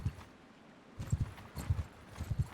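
Horses in Mount and Blade Bannerlord clip-clop with steady, close hoofbeats in clustered groups of two or three, sounding alone after a quieter opening.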